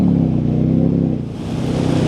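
A Harley-Davidson Freewheeler 114 trike engine pulls hard under acceleration, a loud, close, low rumbling drone with a brief dip midway before surging again.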